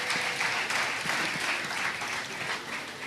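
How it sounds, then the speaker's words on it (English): Members of a political party applaud together at an annual conference awards ceremony, a dense, sustained wash of clapping that fills the room at steady loudness for the whole stretch without any voice over it. "Give yourselves a round of applause too."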